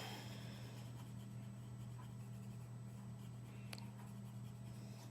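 A pencil colors in yellow on paper with a soft, continuous scratching stroke, faint and close, over a low steady background hum.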